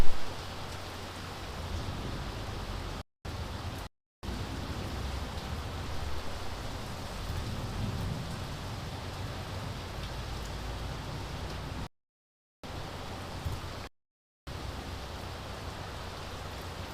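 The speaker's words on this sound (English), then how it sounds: "The rain just stopped hitting my window like a tap was turned off." Steady rain pattering against a window in Nicaragua, a continuous soft hiss of drops that holds even for many seconds, broken only by a couple of brief silent dropouts.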